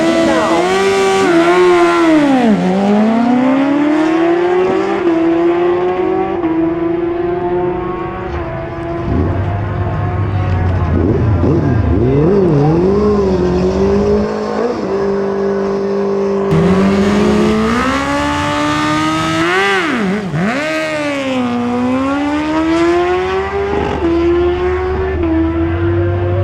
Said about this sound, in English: The Impala up against the Commodore.